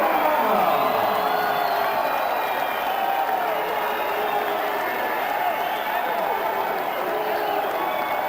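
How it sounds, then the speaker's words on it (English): A large boxing arena crowd applauds steadily after a heavyweight bout in 1999, a dense wash of clapping with scattered cheers, sustained and even from start to finish. "How about a round of applause for the very game effort from Jesse Ferguson of Philadelphia."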